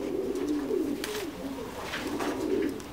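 Thai Titan meat pigeons coo steadily at a farm, overlapping low rolling calls filling the pen with a continuous, fairly close chorus.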